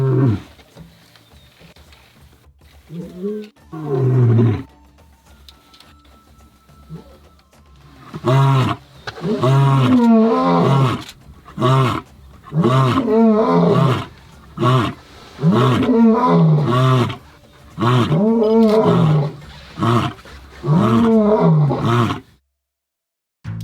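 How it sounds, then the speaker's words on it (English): Male lions roaring to proclaim territory in the African bush: a long series of deep, rhythmic grunting roars, loud and close, building after a quieter start and then falling silent. "male lions will frequently proclaim their territory by roaring every few hours"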